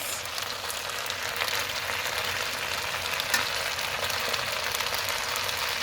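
Lotus sauce cooking down in a pan gives a steady, moderately quiet sizzling hiss that holds evenly throughout without pause, with no voices.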